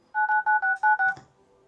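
Phone dialed to call mother, six quick dual-tone keypad beeps in an even rhythm, close and clear, followed by a brief click and quiet.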